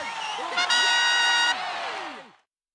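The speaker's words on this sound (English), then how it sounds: "The sound of applause and big audience cheers." A big crowd cheers and claps together, with whoops rising to a loud peak before the applause fades out.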